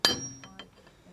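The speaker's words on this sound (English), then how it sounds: "It's a little punch. Just bend that into the slot" A small metal punch strikes a hub nut on a Citroen Saxo, bending it into the slot. One sharp ringing clink is followed by two fainter taps, close and isolated.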